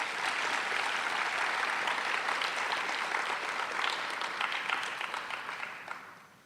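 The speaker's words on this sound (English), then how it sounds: "So if you guys don't mind, please give Dr. Lucky and Lindsey Wilson College a great round of applause." A graduation audience for the Rogers Scholars at Lindsey Wilson College claps in a dense, steady round of applause that tapers off at the very end.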